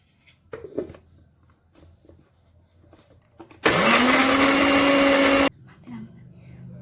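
Quiet talk and kitchen clatter give way to a blender chopping shallots with water for liquid fertilizer, a loud steady motor whir for about two seconds that stops abruptly.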